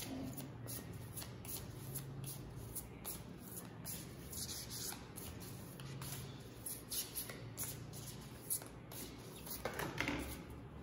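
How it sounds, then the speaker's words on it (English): Angels and Ancestors oracle cards are shuffled by hand in a quiet room, a soft continuous riffling and sliding with occasional light taps, close and fairly faint. "So now I'll just pick up a piece of advice from Angels and Ancestors Oracle cards by Kyle Gray."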